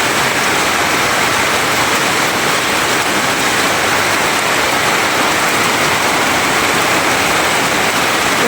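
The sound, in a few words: heavy rain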